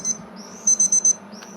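Kitchen timer beeping while brewing beer at home: a quick burst of four short, evenly spaced high electronic beeps, plus fainter single tones before and after over a low steady background hum.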